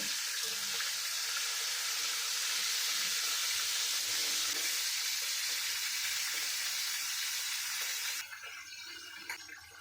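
Chicken legs frying in hot oil in a pan, a steady loud hiss and sizzle that drops off sharply near the end.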